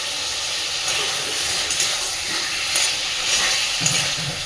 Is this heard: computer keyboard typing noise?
no